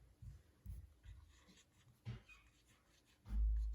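A pencil writes a name on paper, making soft scratchy strokes in short bursts with pauses between, close and faint, ending in a louder low thump, without speech.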